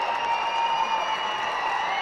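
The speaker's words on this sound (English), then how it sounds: "That massive charge of cheer coming up from the Gotown routine" A crowd at a karate kumite championship gives a steady wash of cheering and applause that fills the space evenly throughout, heard from within the hall with no distinct voices rising above it.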